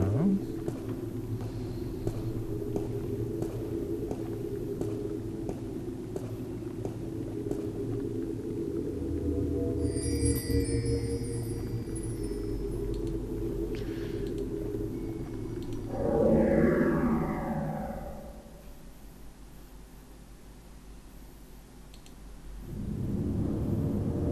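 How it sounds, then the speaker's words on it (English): Distant thunder rolls as a low, steady rumble for most of the stretch, swelling briefly near the later part before fading and returning faintly. "Sounds like distant thunder."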